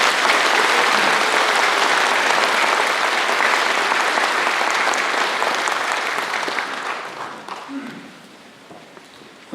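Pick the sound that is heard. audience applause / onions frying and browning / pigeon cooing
audience applause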